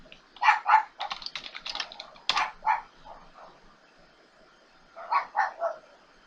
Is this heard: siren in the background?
no